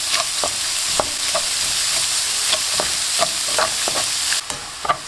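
Ground meat sizzles loudly in a hot pan while a spoon stirs it, the steady frying hiss punctuated by repeated sharp scrapes and knocks against the pan.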